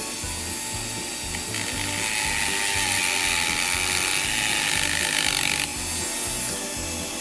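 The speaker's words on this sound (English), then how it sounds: "Dremel, cutting wheel." A Dremel cutting wheel grinds steadily against the metal of a Bachmann Big Hauler pilot wheel set, a harsh continuous whine with a brief dip near the end and a rhythmic mechanical chatter underneath.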